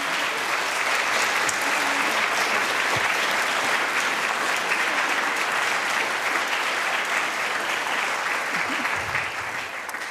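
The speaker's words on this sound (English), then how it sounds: "Can we please have an enormous round of applause for our panel?" A large audience at an International Women's Day panel event applauds steadily and loudly for the full ten seconds, a dense continuous wash of clapping that eases only slightly near the end.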